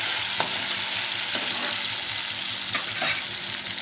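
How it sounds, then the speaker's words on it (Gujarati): Steady close sizzling of tomatoes sautéing in oil, with occasional soft scrapes of stirring. "મસ્ત ટમેટા વઘારાઈ જશે જોઈ શકો છો"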